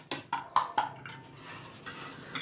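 Rice flour being stirred in a pan over a medium flame for adai, with a few sharp scraping knocks of the utensil against the pan early on, then softer, quieter stirring.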